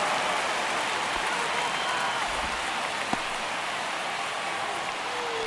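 A baseball crowd in MLB The Show 25 gives off a dense, steady roar of cheering and chatter, with no break for the whole stretch.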